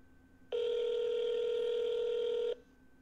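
A single outgoing ring tone sounds on a phone call to Kevin, one steady two-second buzzing tone, clear and close, then quiet line noise.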